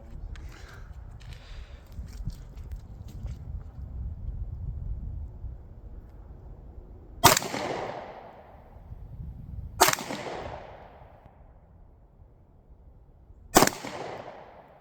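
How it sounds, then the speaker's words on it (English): Three separate 9mm full metal jacket pistol shots fired outdoors toward a steel plate. Each is a sharp, loud crack with a short decaying tail, spaced a few seconds apart after a stretch of low background rumble. "we have 9mm Full Metal Jacket. I'm gonna shoot it a couple times."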